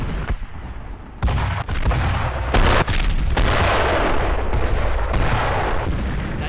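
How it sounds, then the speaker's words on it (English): Naval guns shelling a coastline during a WWII assault in Brothers in Arms: Earned in Blood, a series of heavy booming impacts and rumbling blasts, loud and close, with continuous battle din between them. "Those are Navy guns! Our boys must be landing soon!"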